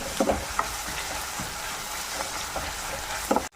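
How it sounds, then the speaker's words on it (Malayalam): Green chilli, curry leaves and onion sauté in a pan for Kerala-style beef kurma, giving a steady close sizzle with a few stirring clinks and scrapes, no voices. "പച്ചമുളകും കരിയാപ്പിലയും സബോളയും എല്ലാം കൂടെ നല്ലോണം ഒന്ന് വഴറ്റിയെടുക്കാം"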